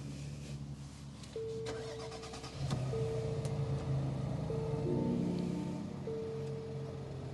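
A 2025 Infiniti QX80 starts up at night: a low engine catch and settle into a steady idle, with intermittent electronic tones sounding over the hum.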